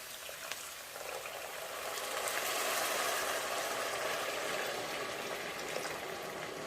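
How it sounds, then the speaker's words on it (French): Water being poured into a cooking pan while preparing shrimp and beef stir-fry with rice, a steady hissing, bubbling rush that swells after a second and holds, fairly quiet, no talking. "Et je vais ajouter de l'eau."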